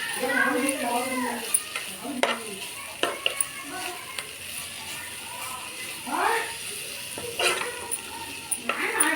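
A dry radish-pod stir-fry with coriander is stirred in a pan, a soft sizzle with several scraping strokes of a spoon, while someone talks over it close by.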